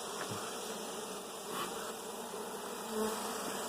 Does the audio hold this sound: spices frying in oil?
no